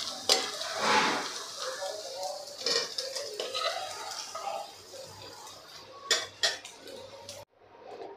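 Golden-fried paneer is lifted from a pan of hot oil into a dish, with metal spoon scrapes, clinks against cookware and a soft background sizzle, ending in a brief quiet pause.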